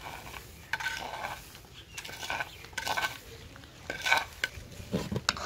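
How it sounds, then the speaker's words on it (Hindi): A spoon stirs sugar through gajrela, a carrot and rice sweet dish, in a pot: repeated metallic scrapes and clinks against the pot over a soft bubbling sizzle, uneven in rhythm, with a little faint speech. "चम्मच को लगातार चलाते रहेंगे।"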